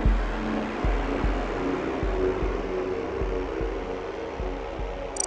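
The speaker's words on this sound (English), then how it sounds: "So I used the defeat sound effect." The Among Us defeat sound effect from the video game: a dense, ominous drone with evenly spaced deep thuds beating underneath, loud and sustained throughout with no voices.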